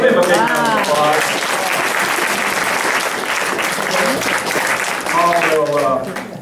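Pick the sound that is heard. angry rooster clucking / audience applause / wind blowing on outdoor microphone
audience applause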